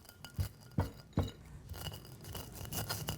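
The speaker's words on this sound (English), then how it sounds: "And I'm going to grind finely." Spices for Balinese bumbu genep being finely ground, a few sharp scraping or knocking strokes early on followed by softer, steadier grinding, close by in a quiet kitchen.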